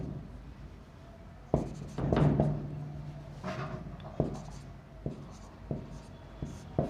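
Chalk or pen taps and scratches in short strokes during a mathematics class, with a few sharp knocks spaced irregularly and a brief longer scraping stroke, close and moderately loud in a quiet room.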